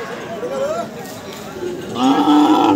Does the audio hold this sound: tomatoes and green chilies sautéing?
no